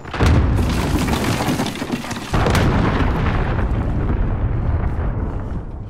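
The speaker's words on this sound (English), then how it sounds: "Enemy cruise missile incoming." A cruise missile strike in a Call of Duty team deathmatch on the Vacant map: heavy, rumbling blasts that fill the sound with a thick roar, a second big impact hitting midway, then a long rolling tail.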